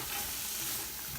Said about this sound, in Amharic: ሽንኩርቱን እያቁላላን ነው።